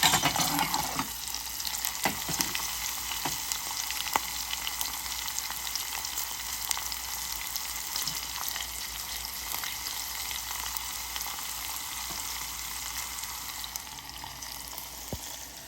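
Sesame seeds sizzle in hot oil with mustard seeds and green chillies, a tempering for idra dhokla, giving a steady, close, bright frying crackle that runs the whole time with no voices.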